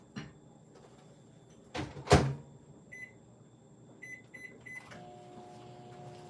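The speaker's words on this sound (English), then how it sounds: "I'm gonna stick it back in the microwave for another 15 seconds or so." A microwave oven heats chocolate: a door thuds shut, a handful of short bright beeps follow as the buttons are pressed, then the oven's steady hum starts and carries on alone at close range.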